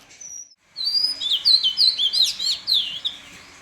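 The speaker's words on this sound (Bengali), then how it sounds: "নিচে যাব বলে আবার দাঁড়িয়ে পড়লাম এত সুন্দর পাখিটা ডাকছে" A single bird sings nearby in clear repeated chirping phrases, rising and falling whistles after a brief opening note and a short pause.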